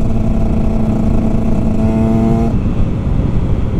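A Husqvarna 125 TX motorcycle with Akrapovic and FMF exhausts idles and revs nearby with a steady throaty exhaust note, pitch holding then dropping as the revs fall away.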